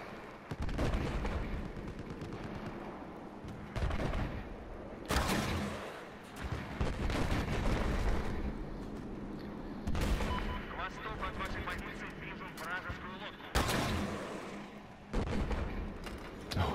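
Sniper rifle gunfire in Battlefield 4, loud booming shots with sharp cracks repeating every few seconds over continuous battle noise and rumbling explosions, with people talking in between.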